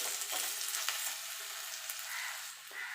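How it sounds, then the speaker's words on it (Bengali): Pieces of split jujube (kul) stirred in hot oil for a pickle, giving a steady close sizzle and light crackle with occasional scraping stirs, no talking. "এবার কুলটা যে ফাটিয়ে রেখেছিলাম সেটা দিয়ে দেবো। দিয়ে একটুখানি নেড়ে নেব, খুব বেশি ভাজবেন না।"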